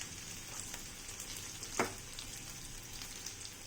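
Pieces of taro frying with turmeric, Kashmiri red chilli and salt are stirred in a pan, a soft steady sizzle with one brief scrape of the spoon midway, quiet and close, no talking.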